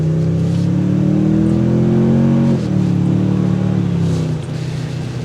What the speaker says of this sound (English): Let's hear that engine note.